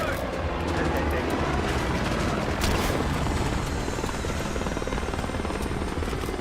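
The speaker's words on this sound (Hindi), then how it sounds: "अरे किसका हेलीकॉप्टर आ गया, अपना है किसका है?" A military helicopter arrives during a Black Ops 6 Iraq campaign mission, its rotor beating in a loud, continuous thrum that fills the scene.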